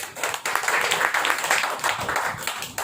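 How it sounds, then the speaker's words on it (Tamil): Church congregation clapping their hands in worship, a dense, uneven patter of many hands close by that keeps going steadily throughout. "கைத்தட்டி ஆண்டவர் மகிமைப்படுத்துகிறார்"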